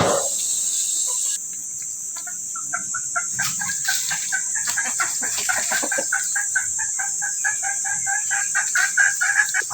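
Free-range egg-laying chickens at a farmhouse, with roosters crowing repeatedly and hens clucking nearby, backed by a steady high insect chirr throughout.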